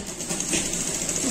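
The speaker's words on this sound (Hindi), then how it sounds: "ये देखिए फ्रेंड्स मैं सिलाई लगा रही हूँ।" A sewing machine stitches net fabric for a saree with a steady, close mechanical whir that lasts the whole short moment.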